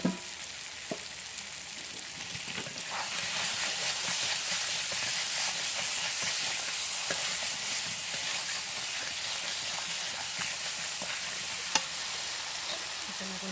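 Spices and tilapia fish curry base sautéing in oil in a pan, a steady close sizzle with occasional stirring clicks and scrapes, no talk.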